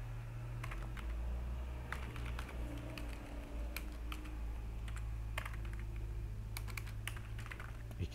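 Programming code being typed on a computer keyboard in a steady stream of light, close key clicks over a constant low electrical hum, with no talking.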